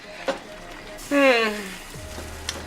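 Afang soup with added oil is stirred in a pot, with a soft sizzle and scraping. A brief voice-like tonal sound rises in the middle, and small clinks of the spoon come near the end.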